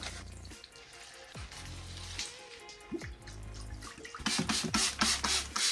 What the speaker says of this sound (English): I'm going to give everything water.